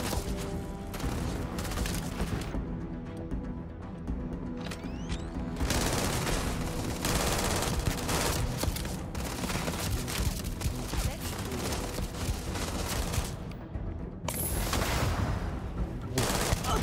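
Weapon gunfire in the video game Starfield, with dense, continuous bursts of automatic shots and a few heavier booms, loud and sustained for the full stretch.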